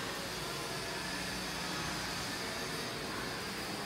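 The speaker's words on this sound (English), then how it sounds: "That train is small, but it make a lot of noise." A small train rumbles past as a steady, broad roar of constant loudness for the full few seconds, with no distinct clacks and no voices.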